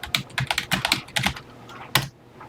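Keys clack on a TI-99/4A home computer keyboard as a BASIC program line is typed in. There is a rapid irregular run of about a dozen close, crisp keystrokes, a short pause, then one firm final press.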